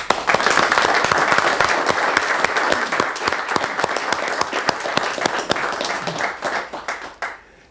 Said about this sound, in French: je pense qu'ils méritent de forts applaudissements